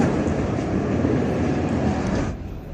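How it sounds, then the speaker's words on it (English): A tram rolls through Sofia, Bulgaria, a loud, steady rumble of wheels on rails close by that eases slightly as it passes. "So here's one of the trams."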